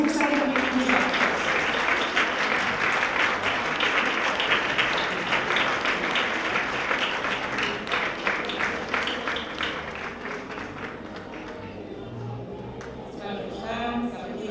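An audience at a tribute event for women textile workers in Taradell claps in a dense, sustained burst of applause that slowly thins out, while a voice talks over it.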